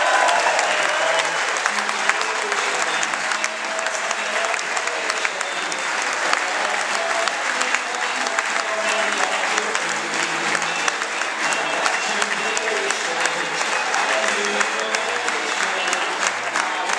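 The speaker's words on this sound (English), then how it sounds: "a round of applause for Vinny Berry." Sustained audience applause at a Clydebank football club player of the year awards night, a dense, steady clapping from a room full of people lasting the whole stretch with a faint crowd murmur underneath.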